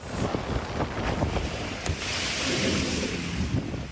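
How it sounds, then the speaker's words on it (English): Big ocean waves surge and wash around a solo racing sailboat at sea, with a steady roar of water and heavy wind buffeting the microphone. "As I said, pretty big waves."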